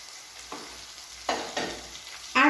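Slit green chillies frying in a pan for soya chunks pulao, giving a soft background sizzle and a few short scraping stirs, the last one loud and close, with no talk.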